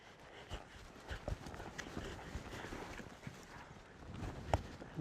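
A horse works cattle during campdrafting training, its hooves thudding in an uneven, fast rhythm on the ground. The sound is faint and steady throughout, with a few sharper hits standing out.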